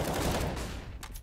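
Gunshots in Counter-Strike on the Dust2 map during a professional match, a loud, dense burst of firing that fades out, with a couple of sharp cracks near the end.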